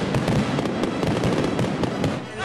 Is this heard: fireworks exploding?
yes